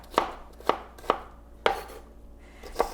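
A knife chops onions into fairly large pieces for a Spanish potato tortilla, giving five sharp, close strikes on a cutting board at an uneven pace, with no talking.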